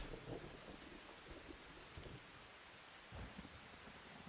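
Rain ambience in the video game Final Fantasy XIV hisses softly and steadily, a faint continuous wash with occasional low rumbles beneath it.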